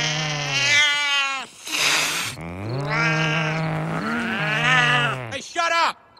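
A cat yowling and caterwauling in a turf war with another cat, loud and close, drawn-out wavering howls rising and falling in several long bursts with brief gaps between.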